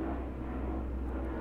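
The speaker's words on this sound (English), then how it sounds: "I don't know if you can hear that, but that's a plane going overhead." An airplane passes overhead as a steady low rumble that fills the whole clip, distant and fairly quiet, with no talking.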